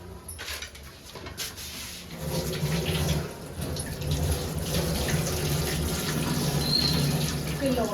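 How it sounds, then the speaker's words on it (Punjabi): Running tap water pours steadily into a sink as soil is rinsed off ingredients for a homemade mustard-oil hair treatment, a continuous close splashing stream with faint bird calls in the background. "ਇਹਨੂੰ ਮੈਂ ਪਹਿਲਾਂ ਚੰਗੀ ਤਰ੍ਹਾਂ ਵਾਸ਼ ਕਰ ਲਾਂ ਤਾਂ ਕਿ ਇਹਦੀ ਮਿੱਟੀ ਬਿਲਕੁਲ ਖਤਮ ਹੋ ਜਾਏ"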